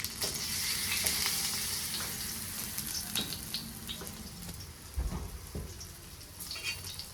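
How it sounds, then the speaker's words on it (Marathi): Besan-coated bread shallow-frying in oil on a pan, a close, steady sizzle with crisp crackles and occasional louder spits, rain-like in texture and without any talking. "दोन्हीही साईडनं छान असं आपल्याला तेलावर भाजून घ्यायचं"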